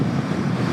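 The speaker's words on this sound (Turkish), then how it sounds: "Kulaklarıma gelen bu rüzgarın sesi beni yeterince tatmin ediyor zaten." Loud, blustery wind rushing over the microphone while riding a Yamaha R25 motorcycle at 90 km/h, a dense low roar with no break.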